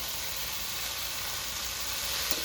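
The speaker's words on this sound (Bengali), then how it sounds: "পেঁয়াজ লঙ্কাটা ভেজে নিয়েছি এরপরে শাকগুলো দিয়ে দেবো শাকগুলো দিয়ে দিয়েছি" Jute leaves are added to a pan of fried onion and chili, sizzling in a soft, continuous hiss that stays fairly quiet and even throughout, with no voices.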